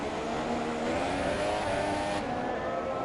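A Formula 1 car in a racing video game brakes hard for the hairpin at Suzuka after Degner 2, its engine note dropping through tonal whines over a constant loud drone, without any voices.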